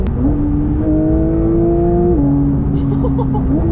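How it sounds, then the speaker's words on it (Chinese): Latest Porsche 911 GT3 with PDK gearbox, engine revving hard and loud with a steady exhaust drone that steps down in pitch at gear changes, close by. "如果说这台车再改的话， 声浪只会比以前的几代更炸更香"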